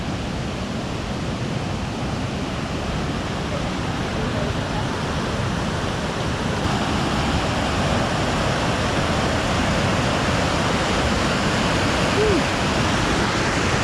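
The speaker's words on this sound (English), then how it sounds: "And check out this creek." Creek water rushes and splashes continuously in a broad, steady roar, close by, with no talking over it, in Grand Teton National Park.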